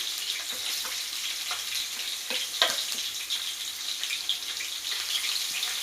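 Chilies and garlic frying in oil in a pan for vegetable fried rice, a steady close sizzle with scattered crackles and a few sharper pops and utensil clinks, no voices.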